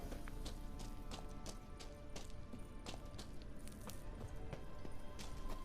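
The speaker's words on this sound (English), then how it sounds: "Kelpie. Another horse. Almost exactly like the last one." Kelpie, a horse in The Witcher 3: Wild Hunt, gallops with quick rhythmic hoofbeats over steady game ambience, fairly quiet and continuous throughout.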